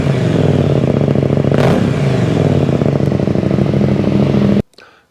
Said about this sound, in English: I put on my Aero Decat with the Aero slip-on exhaust system.